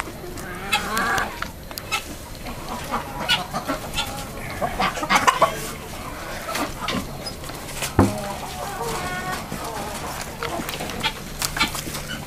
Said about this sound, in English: Even though Henry's a bigger bird, you can see he's not real well equipped for fighting with his spurs